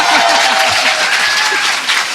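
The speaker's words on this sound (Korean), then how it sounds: "박수." A studio audience at a Korean talk show applauds loudly and steadily, with some voices and laughter mixed in underneath.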